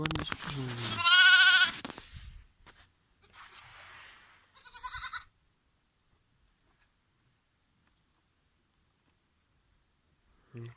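A couple of bleats stand out near the start and again midway, separated by quiet stretches, with a faint knock at the very end.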